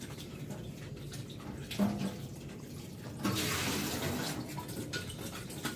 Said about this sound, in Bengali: এখন আমি কিছু উস্তে ধুয়ে নিচ্ছি।